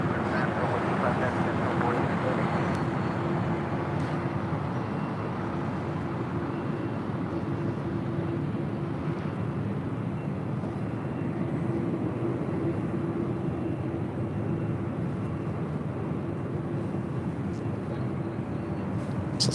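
A Delta 767 jet arriving at LAX, inbound from JFK, gives a steady broad roar with a low drone that carries through the whole stretch at moderate loudness, with people talking over it.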